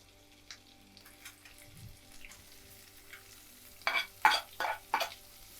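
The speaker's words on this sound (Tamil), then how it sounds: "லைட்டாக வதக்கிக்கோங்க இந்த வெங்காயம் லைட்டாக வதங்கும் போதே" Garlic and sliced onion are stirred and sautéed in a pan for egg manchurian, quiet at first, then a cluster of sharp stirring scrapes and sizzles near the end.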